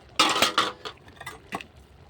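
Metal lid lifted off a cooking pot of potato, aubergine and spinach, a few close clanks and scrapes in quick succession, then a lighter clink.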